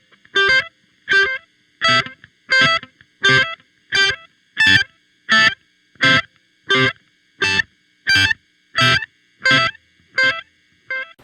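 Electric guitar run through a Hotone Ampero One with delay switched on, about fifteen evenly spaced bright plucked notes or chords, each trailed by a short repeat, loud and alone with no talking.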